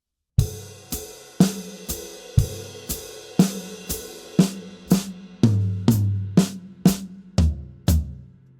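A close drum groove with strong beats and lighter foot-pedal hi-hat chicks on the offbeats between them, ending in a faster run of punchy tom and snare hits.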